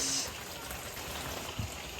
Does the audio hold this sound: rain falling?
yes